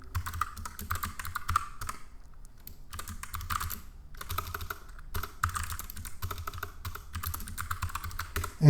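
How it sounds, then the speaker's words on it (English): Rapid clicking of computer keyboard keys in bursts, broken by a few brief pauses, close and clear with no talking. "as you start typing"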